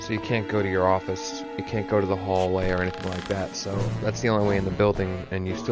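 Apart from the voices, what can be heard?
No everyday noise stands out behind the speech.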